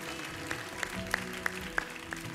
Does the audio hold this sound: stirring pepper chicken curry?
no